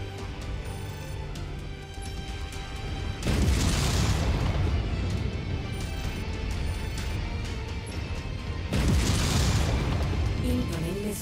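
Two heavy missile explosions in MechWarrior 5: Mercenaries, each a loud broadband blast with a long rumbling tail, the first about a third of the way in and the second near the end, over a steady mech-cockpit hum.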